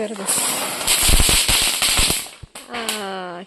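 A small firecracker goes off at a Christmas celebration in a rapid string of sharp crackling pops for a couple of seconds, loud and close, followed by a person speaking.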